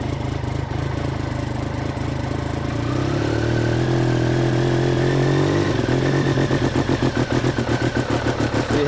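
A motorcycle engine with faulty injectors idles and then revs unevenly, its pitch rising and wavering before breaking into a rapid, stuttering, pulsing misfire, loud and close.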